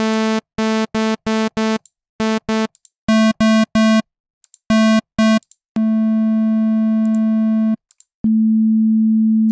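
Pure sine tones from the oscillator of the Primer 2 synth app on iOS, played as a run of short, evenly spaced bleeps at changing pitches, then two long sustained notes, clean and loud with no voices.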